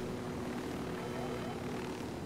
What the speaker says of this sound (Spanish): Este helicóptero ya se viene cayendo